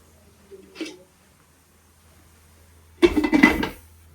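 A metal lid set down onto a cooking pot: a faint clink first, then a louder clattering rattle as the lid settles, close by with no talk.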